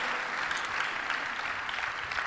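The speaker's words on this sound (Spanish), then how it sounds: "Dele fuerte el aplauso al Rey de Reyes y Señor de Señores." Steady applause from a church conference audience, a dense, even wash of clapping that fills the whole stretch without pause.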